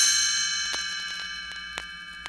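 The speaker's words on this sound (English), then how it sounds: "You will know it is time to turn the page when you hear the chimes ring like this." Chimes ringing to signal a page turn in a read-along storybook: a bright, sustained metallic tone with several soft repeated strikes, steady and close, with no voices.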